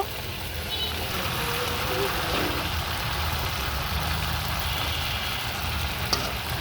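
Fish and potatoes frying in hot oil for a Bengali fish kalia, a steady broadband sizzle running the whole time, with a low rumbling hum beneath and a brief clink near the end.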